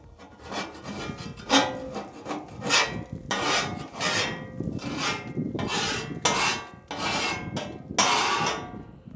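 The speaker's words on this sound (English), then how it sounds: "what we're gonna do now is go ahead and scrape this food off" A metal scraper drags food residue across a Traeger Flatrock griddle in repeated rough, rasping strokes, close and fairly loud, with no voices.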